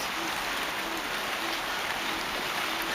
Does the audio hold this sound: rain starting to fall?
yes